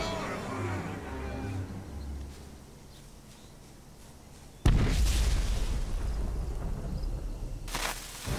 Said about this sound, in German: Haben die da hinten nichts Besseres zu tun, als den ganzen Tag Leuchtraketen zu schießen?